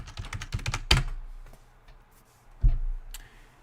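A password is typed on a computer keyboard during a Windows Server 2022 installation: a quick run of close, crisp keystrokes, then a few isolated taps and a firmer key press after a pause.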